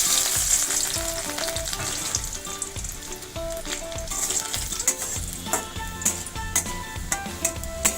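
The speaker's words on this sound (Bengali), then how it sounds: "মধ্যে একটু রসুন কুচি দিয়ে দেবো" Chopped garlic crackles and sizzles in hot oil in a wok, a steady, close frying hiss with scattered pops and stirring clinks, under faint background music.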